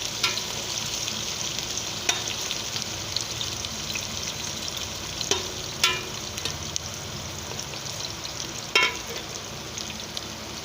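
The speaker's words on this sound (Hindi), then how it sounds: "ऑयल मैंने रख दिया है गरम होने के लिए। पहले इसमें प्याज शामिल कर देते हैं" Chopped onions fry in hot oil for a potato rice dish, a constant crackling sizzle with a few sharper pops and stirring scrapes standing out now and then; no one speaks.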